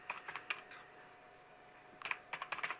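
Code is typed on a computer keyboard in two quick bursts of light, close clicking keystrokes separated by a quiet pause.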